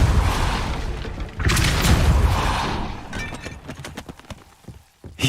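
Depulso spell cast in Hogwarts Legacy: a loud whooshing magical blast with a deep boom, followed by scattered rattling and clattering debris that fades out.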